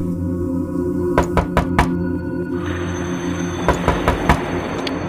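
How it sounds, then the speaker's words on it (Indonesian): Knuckles knock on a house door in two bursts, first three or four sharp raps, then a pause and another quick run of four or five, close and distinct over a steady low background hum. "Saya berusaha untuk mengetok lagi pintu itu."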